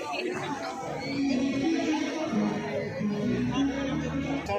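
A temple festival crowd at Baba Maninag temple during Ranpur Mahotsav, heard as a continuous murmur of many overlapping voices and chatter at moderate level, with no single voice standing out.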